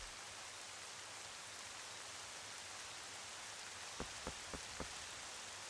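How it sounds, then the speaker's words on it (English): Steady, even rain hiss from The Legend of Zelda: Twilight Princess HD fills the scene, with a few soft drop-like taps near the end and no talking. "The rain's a nice touch."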